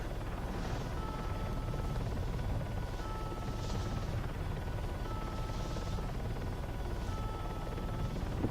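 A helicopter flies in the HomeLife game, its rotor and turbine a steady, loud, unbroken drone with faint rhythmic swishes throughout.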